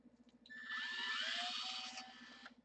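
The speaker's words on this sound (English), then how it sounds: "Drill a hole in it." A power drill bores a hole in a handmade stab, whirring steadily and fairly close for about two seconds after a low rhythmic pulsing.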